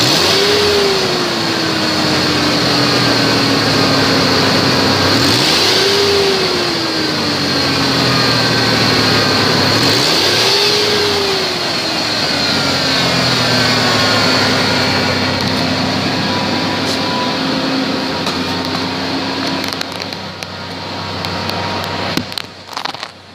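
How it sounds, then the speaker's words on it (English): A 1999 Ford Ranger pickup with 125,957 miles runs steadily up close, its engine revved three times in smooth rising-and-falling swells before settling to a steady idle, then clicking and shuffling near the end. "1999 Ford Ranger, mileage 125, 957."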